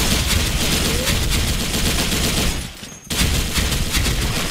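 An RPK74 light machine gun fitted with an EOTech sight fires in the Special Force 2 shooter game, a loud, dense stream of automatic gunfire that dips briefly before resuming at full intensity.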